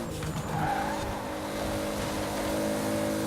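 A Toyota Supra RZ in Forza Horizon 4 brakes and skids through a corner, with a steady engine drone and tire squeal running continuously at close, fairly loud level, without any talk.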